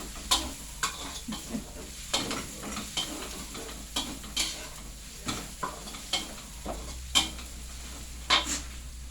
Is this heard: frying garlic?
yes